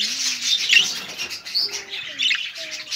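Pet birds, including face-colored mutation parakeet-type birds, chirp continuously at a breeder's aviary, a dense layer of overlapping tweets and high calls.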